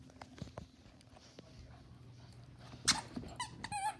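A playful dog whimpering and squeaking while trying to play, with scattered soft taps and paw patter, then a sharper cluster of high whines near the end, moderately close in a quiet room.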